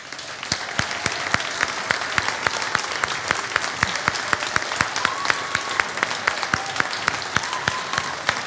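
Audience applause at a Swedish talk on the theme of tipping points, steady dense clapping from a crowd that carries on evenly throughout with no voices over it.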